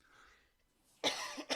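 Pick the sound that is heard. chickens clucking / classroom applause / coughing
coughing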